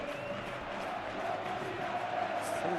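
A steady stadium crowd roar fills a PES 21 football match, swelling slightly toward the end with a faint rising cheer.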